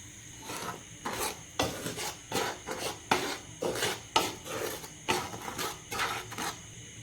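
A spatula scraping ragi flour as it fries in ghee in a pan, rhythmic rasping strokes roughly twice a second, close and clear.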